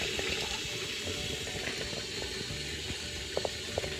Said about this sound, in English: I'm filling up my little wash tub with some water